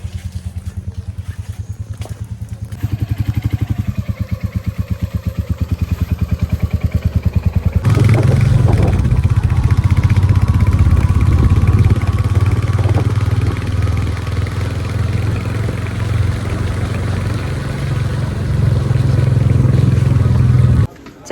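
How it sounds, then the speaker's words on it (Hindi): Motorcycle ridden through the rain, its steady engine drone and harmonic rumble running close and loud throughout, rising sharply after a quieter start, with wind and rain noise layered over it and speech mixed in. "उसके साथ बाइक में जाऊँगी।"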